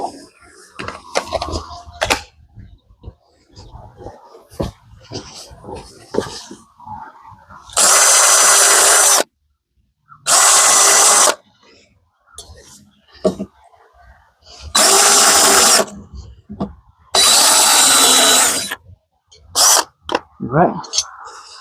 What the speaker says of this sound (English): so I'm going to get my drill.